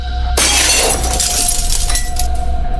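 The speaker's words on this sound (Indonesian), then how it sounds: "terdengar suara gelas jatuh dan pecah" A drinking glass falls in a kitchen and shatters loudly. The sharp crash is followed by a bright, jangling spray of shards that slowly fades, over a low steady hum.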